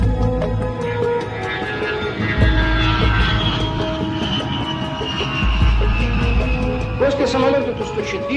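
A Soviet Tupolev Tu-104 jet airliner of the Aeroflot fleet gives a continuous engine roar with sustained whining tones that slowly drift, loud and steady across the whole stretch.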